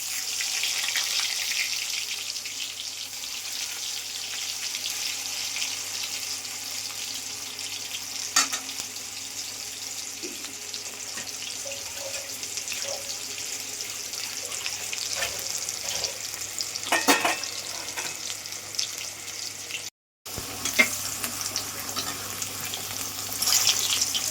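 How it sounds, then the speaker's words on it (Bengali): Potatoes for chicken curry fry in oil in a pan, with a continuous close crackling sizzle and a few faint stirring knocks, plus one brief break near the end. No one talks. "একটু আলুটা ভেজে নেবো, তো আলুটাকে একটু আমি লাল লাল করে ভেজে নেবো।"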